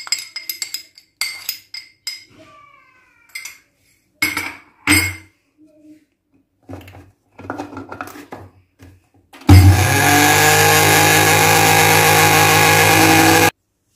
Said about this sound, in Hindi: इसको अच्छा सा ब्लेंड करेंगे।